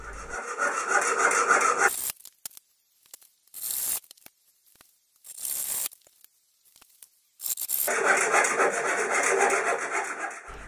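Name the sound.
Japanese saw cutting beech dowel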